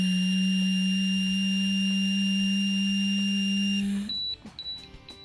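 A Smart Start SSI ignition interlock breathalyzer holds a loud, steady solid tone for about four seconds. It then cuts off into a few short, fainter beeps and clicks.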